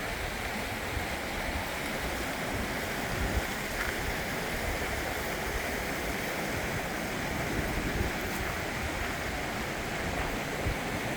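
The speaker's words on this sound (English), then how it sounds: "This is French Canyon and whatever creek." A creek in French Canyon in the Sierra Nevada, running high in a heavy snow year, gives a loud, continuous rushing roar close by, with no voices over it.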